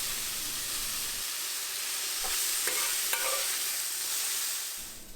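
Mushrooms fry in a hot pan with a steady sizzle and hiss, and several short scraping knocks come from a utensil stirring them, close and fairly quiet, with no talking.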